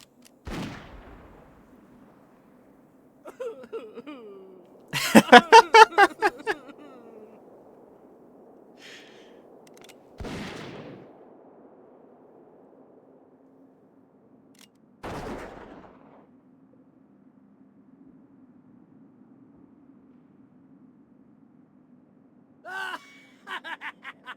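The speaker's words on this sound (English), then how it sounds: "now they're shooting bottles" Gunshots from a World of Warcraft cutscene as characters shoot at bottles: a loud rapid burst of shots, then single sharp cracks spaced several seconds apart over a low steady game hum.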